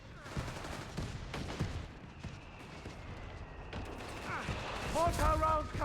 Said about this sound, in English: Oh, is that mortar firing in there?